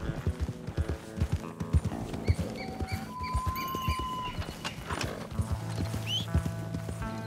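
A horse in the video game Red Dead Redemption gallops with a quick clip-clop of hooves, snorts and whinnies once, over a faint game soundtrack.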